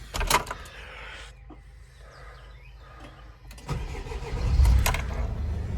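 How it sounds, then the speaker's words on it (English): A 2004 Mercedes Sprinter MWB 2.2 diesel van, a former St Johns Ambulance, cranks briefly, then catches and settles into a rough mid-pitched diesel idle, heard nearby with some clicks before it starts. "They both start the engine."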